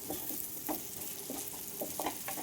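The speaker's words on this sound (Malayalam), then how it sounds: "ക്യാപ്സിക്കൻ ചെറുതായി അരിഞ്ഞത് ക്യാരറ്റ് അരിഞ്ഞത് ഇഞ്ചി അരിഞ്ഞത് ഇത് മൂന്നും കൂടി ഇട്ട് കൊടുത്തിട്ടുണ്ട് നന്നായിട്ടൊന്ന് മൊരിയിച്ചെടുക്കണം" Finely chopped capsicum, carrot and ginger frying in a pan make a soft, continuous sizzle, broken by light scraping taps as the vegetables are stirred.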